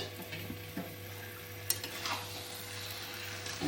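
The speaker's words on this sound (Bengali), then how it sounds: "এবার মাংসটা দিয়ে দিলাম" Lemon-marinated chicken pieces go into a pan of hot gravy, giving a steady close sizzle and frying hiss with stirring and a few light clinks of a utensil against the pan.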